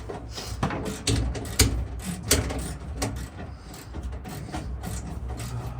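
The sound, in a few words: ratchet wrench undoing screws while stripping a van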